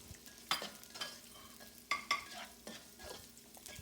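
Carrot pieces cut lengthwise being stirred in a hot pan, with a quiet sizzle under sharp scraping strokes of the spatula coming in irregular bursts, close and fairly soft, with no talk.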